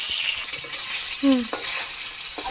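Fish pieces frying briefly in hot oil in a pan for a Bengali fish pickle, with a steady sizzle broken by a few close scraping stirs and clinks of the spatula.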